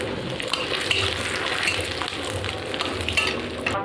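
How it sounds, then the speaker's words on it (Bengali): Whole cumin seeds, dried red chili and bay leaf sizzling in hot oil for a Bengali tempering, a dense crackling fry with small rapid pops, close and loud throughout, no speech. "তেলের উপর দিয়ে দেবো গোটা জিরে, এবার শুকনো লঙ্কা তেজপাতা দিয়ে দেবো"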